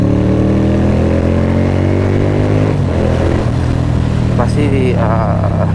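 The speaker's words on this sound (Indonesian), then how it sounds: "suara V-twin itu enak banget di telinga ya" A Keeway V250 V-twin motorcycle engine rumbles loudly up close, its deep pulsing tone rising and falling with a few revs.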